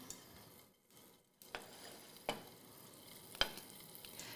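Quiet frying of foie gras in a very hot pan, a soft steady sizzle with a few sharp clicks and taps of a utensil, no voices.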